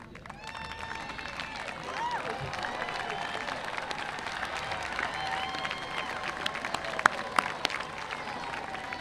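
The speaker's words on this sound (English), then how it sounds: "please rise and give a thunderous applause to these people who have stood by your side" Graduation audience at a Class of 2022 high school commencement applauds steadily, a dense wash of clapping with scattered cheers and a few sharp whistles rising over the crowd noise.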